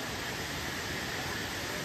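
Dam water falls below in a dense, steady roar of broadband rushing noise, loud and unbroken throughout with no variation.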